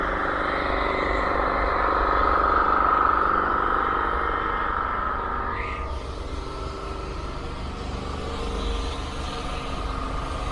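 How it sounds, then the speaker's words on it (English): A power washer blasts soot off a Hong Kong shopping mall sidewalk, a steady loud broadband hiss and rumble that stays continuous throughout with slight shifts in tone, and no talking. "They're power washing off the sidewalk here."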